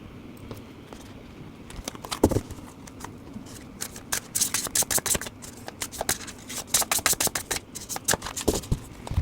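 Tarot cards being shuffled and spread out on a table: a dense run of quick papery riffles and slaps, loud and close, building into rapid bursts in the second half with no talk.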